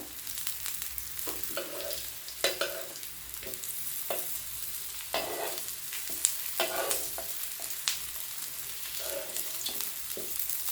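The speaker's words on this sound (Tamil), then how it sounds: "சிம்லேயே வச்சு நல்லா ஃப்ரை பண்ணிக்கலாம்" Raw banana slices frying in oil over a low flame, a continuous soft sizzle broken by periodic scraping and stirring sounds from a utensil moving the slices in the pan, close by with no talking.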